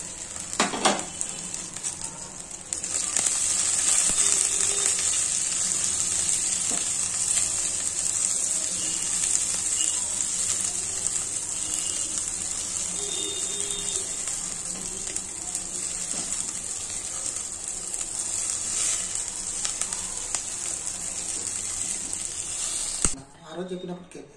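Grated coconut frying in a hot pan for a capsicum curry, giving a steady, close sizzling hiss that runs almost unbroken before stopping abruptly at the end.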